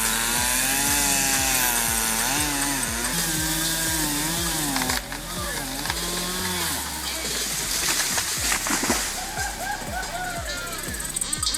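A running chainsaw during tree cutting buzzes loudly and close, its pitch rising and falling in repeated revs before settling into a rougher, steadier cutting drone.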